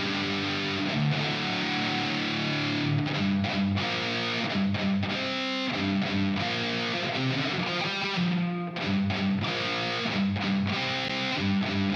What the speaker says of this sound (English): And a bit of reverb.